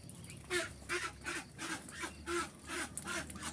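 Muscovy ducks on a duck farm in Klungkung give a series of hoarse, breathy honking calls, about seven spaced bursts at a steady rhythm, fairly close but quiet.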